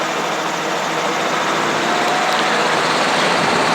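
A helicopter engine is spun up toward takeoff RPM, heard as a continuous, loud mechanical drone and whine that holds steady throughout, close to the listener, with no talk.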